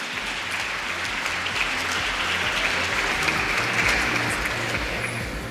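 An audience at a school exhibition event claps for guest speakers, a choreographer and dancer among them, producing dense, steady applause that stays even and fairly loud for several seconds.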